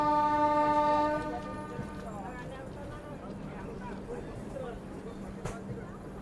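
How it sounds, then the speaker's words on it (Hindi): The WAP 7 locomotive horn on a train departing near Nagpur railway station sounds a loud tonal blast at the start. It then fades into rumbling rail noise and distant station ambience. "कोई ट्रेन डिपार्चर भी ले रही है"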